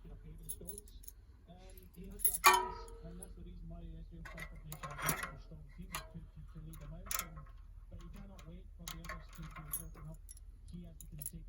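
Small metal bicycle cassette cogs and spacers clink and tick as they are stacked onto the hub one by one, quiet close-up jingling with a few sharper knocks, with someone speaking over them.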